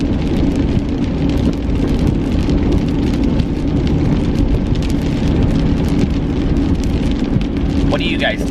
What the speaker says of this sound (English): it's kind of like raining outside